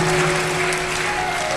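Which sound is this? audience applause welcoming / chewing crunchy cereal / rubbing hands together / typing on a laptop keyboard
audience applause welcoming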